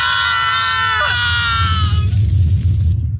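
Characters in the Tales of Zestiria video game let out loud, sustained high-pitched screams that waver and fall away, over low rumbling game sound, ending abruptly.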